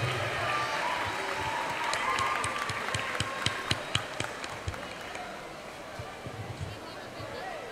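A graduation ceremony crowd applauds, a broad wash of clapping with a few sharper individual claps standing out, as voices carry over the top.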